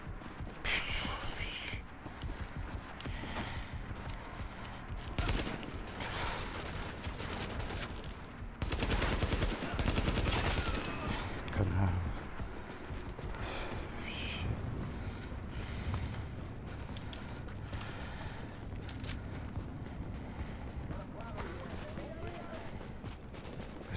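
Gunfire crackles in Tom Clancy's The Division video game, with scattered shots and rapid bursts spread across the stretch, the densest volley near the middle, while someone talks at times.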